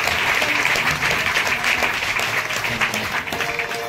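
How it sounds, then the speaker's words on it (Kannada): A congregation at a Sunday church service claps their hands together, a full, steady wash of many hands clapping at close range with no pauses. "ಕೈ ಚಪ್ಪಾಳೆ ತಟ್ಟಿ"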